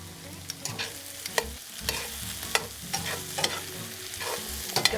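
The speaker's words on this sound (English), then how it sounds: "I'm going to add a little more salt to this, stir that in." Salt is stirred into a pot roast sizzling in a pan, with soft frying crackle underneath and irregular scraping clinks of a utensil against the pan, close and moderately quiet; no talking.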